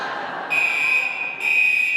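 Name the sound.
loud fire alarm sounding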